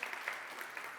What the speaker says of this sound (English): If you could just give them a round of applause